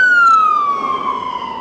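An ambulance siren on the Blackpool promenade wails at close range, its steady tone sliding downward in pitch as it passes.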